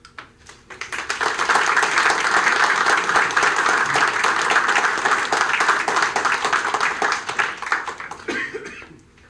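Audience applause fills a city commission meeting room, rising quickly into sustained, dense clapping for several seconds before tapering off, with scattered coughs mixed in.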